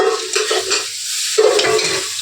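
Spice masala frying and being stirred in a pan, with sputtering sizzle under loud scraping stir strokes and a brief pause before the stirring resumes, close and without voices.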